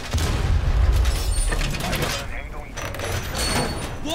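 Mechanical clanks and thuds of a wall being reinforced in a tactical shooter video game, with steady in-game noise and muffled booms underneath and voices talking over it.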